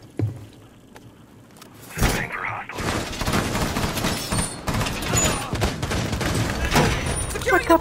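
Rapid gunfire from the player's weapon in Rainbow Six Siege, dense continuous bursts after a short quiet lead-in, loud and close, with a brief sharp crack near the start.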